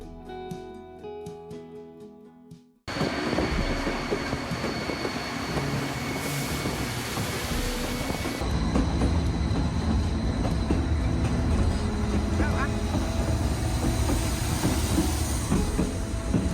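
A rumbling White Pass Railway train in Skagway, Alaska rolls along the rails, loud and continuous after a brief quieter start, with a steady clatter of wheels and wagon noise.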